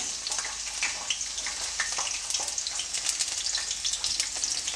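Two green chillies frying in about four tablespoons of hot oil in a pan, a steady, close crackling sizzle with fine spattering pops throughout and no voices.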